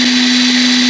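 NAGAWA BIS12U impact driver spinning freely at speed setting 5, about 1800 RPM, a loud, steady electric motor whine with a sharp constant pitch, close up and alone.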